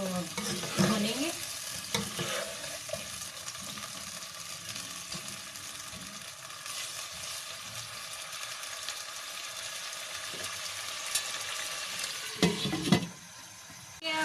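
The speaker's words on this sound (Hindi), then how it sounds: "इसको मीडियम फ्लेम पे इसको भूनेंगे।" Chicken pieces frying in a pan on a medium flame for a korma, with a steady soft sizzle and occasional scraping stirs, close but fairly quiet, without talk.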